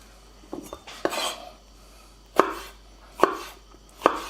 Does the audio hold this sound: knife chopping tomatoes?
yes